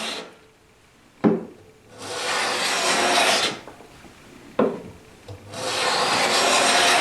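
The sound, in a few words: hand plane planing plywood end grain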